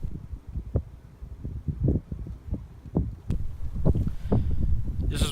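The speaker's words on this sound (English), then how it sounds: "You can see how windy it is." Gusty wind on a 9-hole golf course buffeting the microphone in irregular low rumbles and thumps, rising and falling throughout with no voices.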